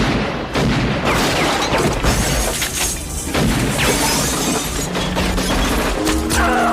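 Loud, chaotic action-movie street gunfight with shattering crashes and heavy booms, dense and continuous throughout, ending with a low droning tone.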